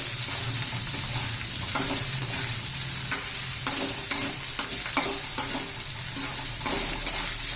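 Potato and green chili frying in ghee in a pan, a steady sizzle with repeated scraping stirs of a spatula, close and fairly loud.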